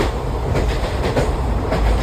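A train pulling into a railway station, with a close, heavy rumble and faint rhythmic wheel clatter that stays steady throughout the short stretch.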